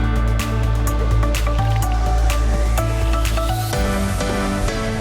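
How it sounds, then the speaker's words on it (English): Canoe paddling on a lake in Tampere, Finland, with wet splashing and dripping paddle strokes in an uneven rhythm over a steady low boat hum, close and fairly loud. "So, we've got a canoe and we're out on the lake."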